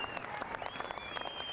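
A crowd claps steadily along the streets of Belfast at Alex Higgins' funeral, producing a brief, faint, distant patter of sustained applause.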